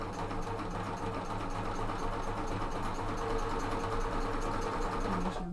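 A Babylock serger stitching a hem runs as a steady, fast mechanical whir with a constant hum, close and even throughout, with no voices over it.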